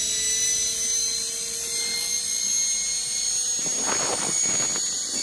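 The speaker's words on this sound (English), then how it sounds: "I'm going to change it to high speed now" Converted washing machine motor switched to high speed, giving a steady high-pitched whine with constant level throughout, plus a brief burst of rougher broadband noise near the end.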